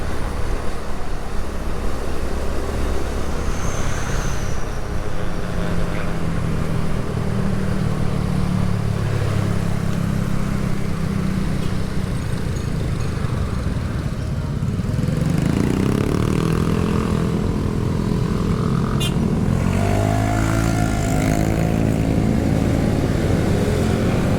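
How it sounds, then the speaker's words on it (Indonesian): Steady engine drone of a Yamaha Vega R underbone motorcycle cruising along a road at about 70, with continuous wind and road noise and a few shifts in engine pitch. "Pakai motor bebek kayak gini ya"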